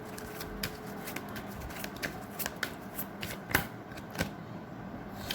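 Tarot cards shuffled and drawn by hand, a close, quiet stream of riffling flicks with a few crisper snaps as cards are pulled, with no talking.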